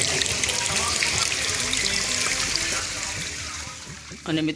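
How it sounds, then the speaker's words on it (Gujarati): Water trickling and splashing from stone channels inside the Adalaj stepwell during rain, a steady close stream with a brief louder gush at the end. "અહીંયા ધાર થઈ રહી છે, ઝરણા જેવું ધાર થઈ રહી છે"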